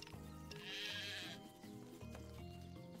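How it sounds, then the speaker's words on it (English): A sheep bleats in the video game Craft The World, one clear, wavering bleat that stands out over steady background game music and is heard close and moderately loud. "we're chasing a sheep around the map like idiots"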